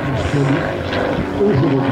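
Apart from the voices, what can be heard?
amateur-built propeller airplane flying at air show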